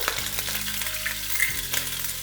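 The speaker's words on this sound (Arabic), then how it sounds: "وهقلبهم على طول. طيب حطينا البصل والثوم" Onion and garlic sizzle in oil in a pan while being stirred, a close steady frying hiss with brief scraping stirs, no voices.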